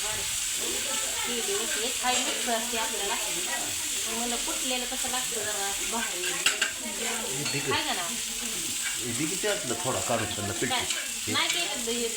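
Food sizzles and bubbles steadily in a hot pan, chillies cooking with onion and garlic, a constant crackling hiss close by, with people chatting over it.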